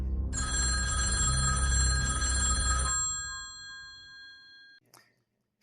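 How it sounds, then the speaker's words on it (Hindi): An old telephone bell rings once in a loud, close, rattling burst that lasts a couple of seconds, then leaves a long metallic ringing that fades into silence. "फ़ोन की घंटी कुछ देर तक ऐसे ही बजती रहती है।"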